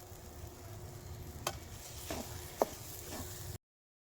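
Ginger and garlic frying in oil, a steady soft sizzle with a few sharper scrapes and taps from stirring, heard up close and alone before cutting to silence.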